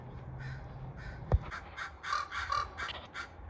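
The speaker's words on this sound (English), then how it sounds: "the really big one looks like a raven, and the rest are crows trying to scare it off" Crows caw repeatedly outdoors while mobbing a raven. Harsh calls come in overlapping bursts, some close and loud, over a faint background with a sharp knock partway through.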